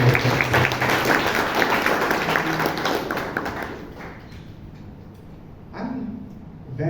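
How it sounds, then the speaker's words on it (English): An audience at a Bangalore Toastmasters Club meeting claps to welcome guests, a dense steady applause that fades after about four seconds, leaving a quiet room with a brief murmur of voices near the end. "You can have a round of applause to welcome you."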